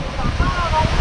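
Water crashing hard at La Candelaria waterfall in Colombia, a dense continuous roar heard close, with a voice briefly audible over it.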